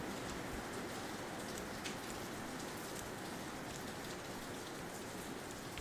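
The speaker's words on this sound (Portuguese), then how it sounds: "vocês estão ouvindo a chuva?" Steady rain pours down on a surface with a dense, continuous hiss and patter, loud and unbroken throughout, with no voices.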